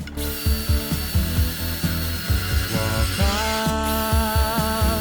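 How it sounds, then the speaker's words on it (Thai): CRH-S20LiBAM cordless rotary hammer with a 13 mm bit drilling into a 2 mm thick 4 by 2 steel bar, a loud, steady motor whine with rapid repeated hammering knocks and a rising pitch midway, close and continuous. "วันนี้ผมจะลองเจาะเหล็กให้ดู"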